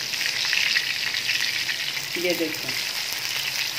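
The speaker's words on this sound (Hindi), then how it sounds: "कबाब हमारे एक साइड से फ्राई हो गए हैं, अब हम इसको टर्न करते हैं" Chapli kebabs frying in a pan give a loud, continuous sizzle, with a short scrape as one is turned partway through; a voice briefly speaks over it.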